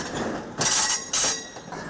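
A tourist train rumbles along its track through horse country, a loud close rolling roar with bursts of metallic wheel squeal and rhythmic clatter, no voices.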